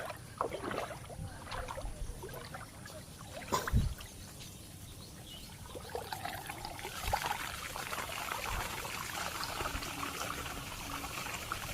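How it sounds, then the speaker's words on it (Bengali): Water flowing and trickling outdoors, a steady wash with faint splashes and a few louder knocks, moderately close, with no talking. "দেখো জলটা যাচ্ছে দেখো জল যাওয়া"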